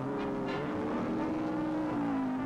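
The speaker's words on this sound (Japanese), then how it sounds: "浜松の朝はけたたましいオートバイの通勤ラッシュで始まります" Motorcycles in the early-1960s morning commuter rush in Hamamatsu drone as a continuous, loud engine roar with a slowly shifting pitch, like a dense stream of bikes passing close by.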